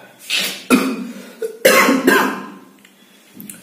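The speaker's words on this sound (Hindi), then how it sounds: "बहुत खांसी हो रही है" A series of harsh, raspy coughs in two close bursts, loud and near, with a softer cough trailing at the end.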